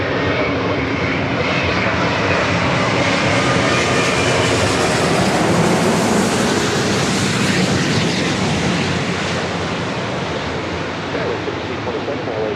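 Loud, steady jet engine roar of an airliner landing or taking off at LAX, a broad continuous rush that swells slightly mid-clip and fills the whole stretch, with no talk over it.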